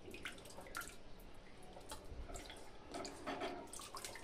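Tap water running and dripping while raw chicken is washed and squeezed by hand, a faint, uneven splashing and trickling with no talk.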